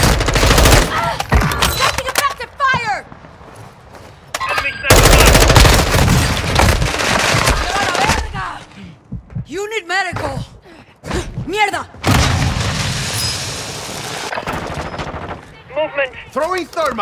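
Gunfire in Call of Duty Warzone 2 on Ashika Island: loud bursts of automatic fire in several long volleys, separated by short lulls, with voices calling out between them.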